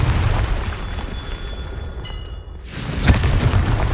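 A Confringo spell explosion in Hogwarts Legacy, a single sharp blast that bursts out after a brief lull, set against a steady rumbling game backdrop.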